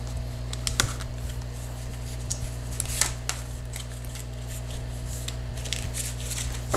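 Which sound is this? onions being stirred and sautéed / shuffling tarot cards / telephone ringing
shuffling tarot cards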